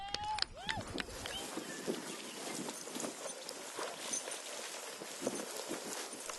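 Horses' hooves at the finish of a 100-mile endurance ride in Montana, faint scattered clip-clop under outdoor ambience with a distant bird call and background voices.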